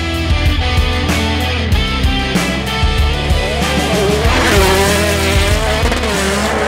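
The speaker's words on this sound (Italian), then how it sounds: "Senti il bloccaggio dei differenziali, che spettacolo." Peugeot 208 T16 rally car driven hard on ice and snow, loud engine revving with rapid clattering and chattering from the locking differentials, tires scrabbling, heard close from inside.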